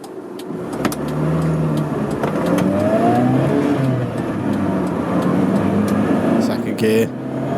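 A Toyota RAV4 pulls hard on a busy road, its engine note climbing through the gears with audible shifts, sustained and close, with brief sharp clicks near the end.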